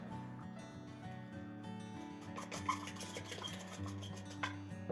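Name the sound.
mixing coconut with sugar, nutmeg and salt in a bowl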